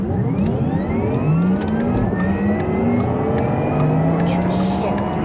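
A Porsche Taycan Turbo S electric car in sport mode gives off its synthetic engine sound, loud rising and falling whirring tones that sweep up with acceleration, with people talking over it inside the cabin.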